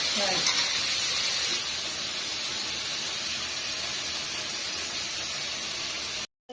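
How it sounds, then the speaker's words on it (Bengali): Meat fried crisp in a pan with lemon and salt, giving a steady, close hissing sizzle that runs evenly through the clip and stops abruptly at the end. "গোশটা ভাজা হয়েছে, এবার মশলাটা ভেজে নেবো।"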